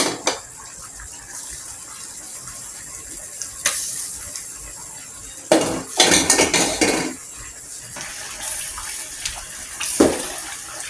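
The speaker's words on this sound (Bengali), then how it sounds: "দেখো, অলরেডি তরকারিটা বলক দিচ্ছে। এই সময় আমি মাছটা দিয়ে দিব।" Fish pieces go into a boiling bottle gourd curry in a pot, with metal clatter of pot and utensil, sharp splashes and bubbling, alone with no talk.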